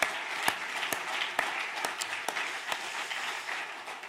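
A church congregation applauds during a New Year's Eve worship service. Sustained clapping from many people runs for about four seconds, with a few louder individual claps standing out at a steady pace, and fades slightly toward the end.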